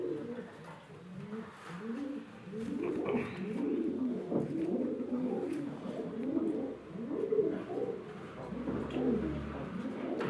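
Pigeons cooing in soft, repeated low throaty phrases, several birds overlapping close by, continuing steadily with no talk.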